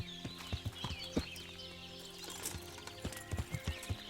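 Horse hooves clip-clop in uneven steps with a whinny in the video game Kingdom Come Deliverance, the hoofbeats coming in bursts at moderate distance, fairly quiet overall, with no talk.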